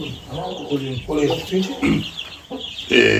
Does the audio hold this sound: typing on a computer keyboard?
no